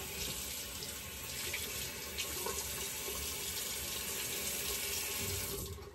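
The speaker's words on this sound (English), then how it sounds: "let me just rinse the face" A bathroom tap runs steadily into a sink while the face is rinsed after a shave, a close, continuous hiss of water with small splashes and no talking.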